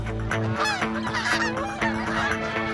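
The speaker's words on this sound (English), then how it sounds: "The local geese are heading south to safety" Geese honk repeatedly and loudly, several birds calling over one another in a steady noisy chorus, close by.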